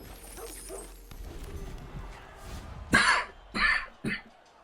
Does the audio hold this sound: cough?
yes